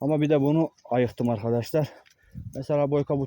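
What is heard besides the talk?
No everyday noise stands out behind the speech.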